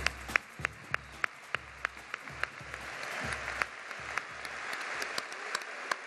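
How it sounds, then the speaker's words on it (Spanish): Crowd applause fills a fairground venue during a carnival queen gala in Santa Cruz de Tenerife, a steady wash of clapping with sharp individual claps standing out, moderately distant and continuous without talk. "les pedimos un aplauso para toda esa familia"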